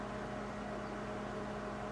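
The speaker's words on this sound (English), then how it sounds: "In the kitchen I can hear my microwave going." A microwave oven runs in a kitchen, a steady, even mechanical hum with a faint electrical buzz droning continuously at low level nearby.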